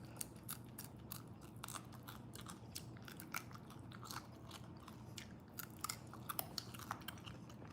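Repeated crisp crunching bites and chewing of spicy fried fish, its tail and skin fried crunchy, close and fairly quiet, irregular crackly bursts over a steady low background hum, no talking.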